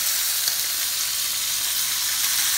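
The fat side of a pork chop sears in a hot pan, giving a loud, steady, close sizzle that holds unbroken the whole time.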